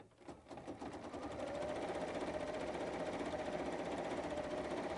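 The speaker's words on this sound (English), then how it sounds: "now it's going to stitch that decorative stitch that I put around the rectangle" Bernina embroidery machine stitching a decorative applique stitch, a fast steady mechanical chatter that starts up and then runs continuously at an even pace, close and fairly quiet.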